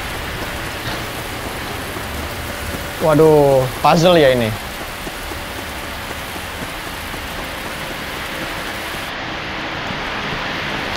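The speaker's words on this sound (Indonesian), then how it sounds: "Di luar hujan nih, maaf ya kalau ada noise." Steady rain falls outside, a constant broadband hiss running the full length, with a brief burst of indoor talk in the middle.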